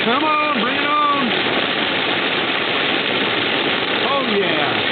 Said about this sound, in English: Raining like never going to rain again.